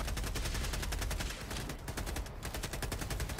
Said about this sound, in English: I got that guy with my handgun.